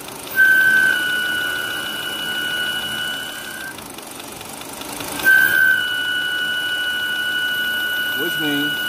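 A steady high-pitched whistle from a faulty PCV valve over the idling engine of a 2013 Volkswagen Passat, with two louder whistling bursts near the start and middle; faint background talk.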